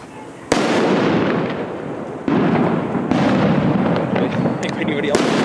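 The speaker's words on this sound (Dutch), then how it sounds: "Trueno Barreño, time fuse, Elgato vuurwerk." Trueno Barreño time-fuse fireworks in Valencia go off in a loud, continuous crackling roar of rapid bursts that swells after a sharp onset and keeps going, with a few people talking faintly underneath.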